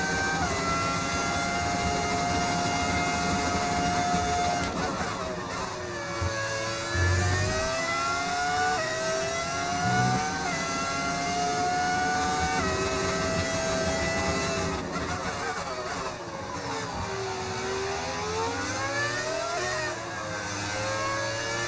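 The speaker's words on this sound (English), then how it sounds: "Why does the car sound so good? Because that is the beauty of the V10 engine." A V10 racing engine in the F1 25 video game whines continuously at high revs, pitch sweeping up and down through gear shifts, steady and loud throughout.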